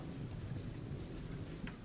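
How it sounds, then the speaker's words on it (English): Steady rain with a low rumble of thunder in the fantasy role-playing game Pathfinder: Kingmaker, a continuous dense wash of rainfall with low rolling rumbles throughout, no talking. "Rain's letting up."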